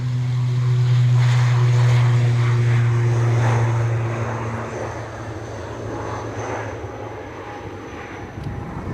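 A propeller airliner at Edinburgh Airport spools up to set off for Belfast on a windy day, a steady droning engine hum with a strong low tone that fades after a few seconds under gusty wind noise.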